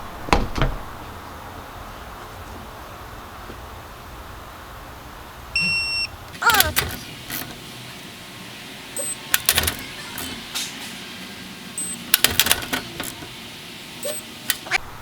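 A Milwaukee M12 Fuel 3/8-inch cordless ratchet runs bolts down for a 55 foot-pound torque test. A few brief, sharp motor bursts are spaced apart by quiet stretches, with faint electronic beeps here and there.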